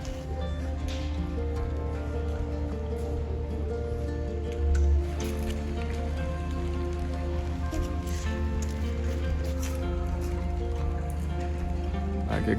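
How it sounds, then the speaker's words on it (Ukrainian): Light rain patters irregularly on surfaces nearby, scattered drops tapping over a steady low background hum, with a brief thump midway. "знову дощик починається"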